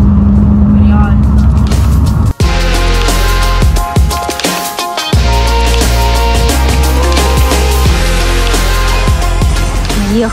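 An oncoming car passes on a road in Hokkaido, its engine and tyre roar rising and fading loudly over the steady hum of the vehicle, with people talking inside.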